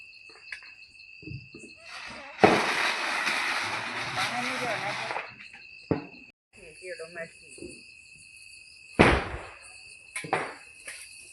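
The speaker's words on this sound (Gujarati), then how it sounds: "ફટાકડા" Diwali firecrackers go off at night: a loud fountain cracker hisses and crackles for several seconds, followed by sharp single bangs, with crickets chirping steadily and people talking and laughing nearby.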